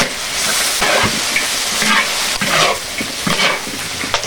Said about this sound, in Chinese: 加辣椒， 再来点豆瓣酱， 炒出红油